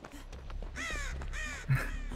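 A survivor scream in the Dead by Daylight video game, a shrill nasal wail resembling Waluigi's 'Wah', rising in several drawn-out harmonic bursts over a low game hum.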